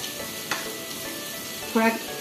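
Spices sizzle in hot oil as they are stirred into masale bhat with dry fruits, a steady faint frying hiss broken by two short scraping stirs, one brief and one louder near the end.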